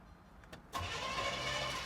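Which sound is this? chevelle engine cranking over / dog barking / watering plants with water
chevelle engine cranking over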